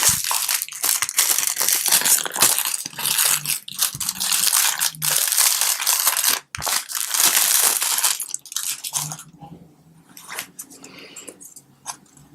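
Paper envelope from a tarot deck being handled and torn open up close: crinkling, crumpling rustles in uneven bursts, loud at first, then thinning to quieter scattered crackles.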